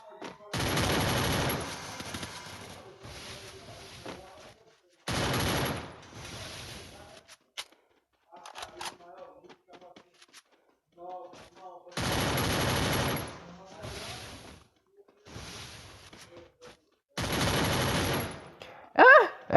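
Bursts of rapid automatic gunfire from a shooting video game, with several long loud volleys separated by quieter gaps, and a voice talking now and then between the bursts.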